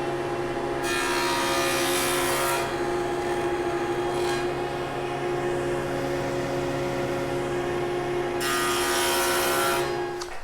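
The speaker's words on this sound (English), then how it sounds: "I'm going to go back to the dado with my miter sled, and I'm going to dado this out." A miter saw fitted with a sled cuts a dado into wood, its high motor whine rising and falling through two long passes with a brief gap between them. The noise is loud and steady and continues to the end.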